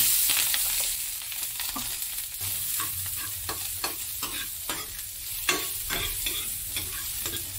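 Garlic, onion, ginger and plenty of chili sautéing in a hot pan for tuna paksiw, a bright continuous sizzle broken by frequent scraping stirs, close and loud with no voices.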